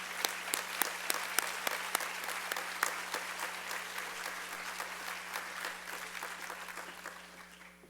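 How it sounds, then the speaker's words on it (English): Applause from the audience at a school district welcome ceremony honoring teachers of the year, a steady wash of many hands clapping with distinct sharp claps on top, sustained throughout and fading slightly toward the end. "Let's give these people a round of applause."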